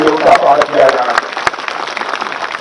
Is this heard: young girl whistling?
no